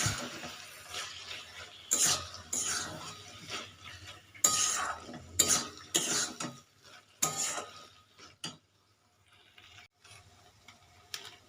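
A spoon stirs mushroom curry in a pot right after sugar goes in, making irregular scraping and clinking strokes up close, some sharp and some softer, fading to quieter scrapes near the end with no talking.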